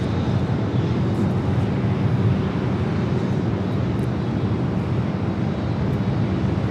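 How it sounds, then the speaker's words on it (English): An Air France Boeing 777-300ER arriving at LAX sends a steady, broad low rumble of jet roar, loud and continuous, blended with wind buffeting on the microphone and no voices. "Followed by Air France Flight 22 coming in from Paris at a 777-300 ER."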